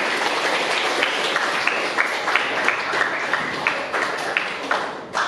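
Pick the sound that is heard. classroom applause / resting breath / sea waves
classroom applause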